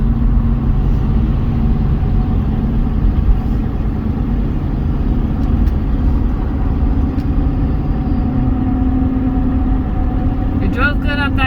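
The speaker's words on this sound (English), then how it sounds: "They're just a more aggressive tire, so they tend to make more noise on the road." Aggressive Goodyear Wrangler tires on a 1999 Ford Expedition give a steady low road hum and drone while driving, continuous throughout with a faint rattle near the end.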